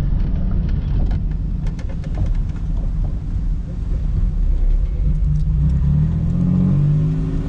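A 1996 Chevrolet Impala SS V8 runs after a fuel pump fault, burning off old gas with a steady deep rumble close by and a rising rev near the end.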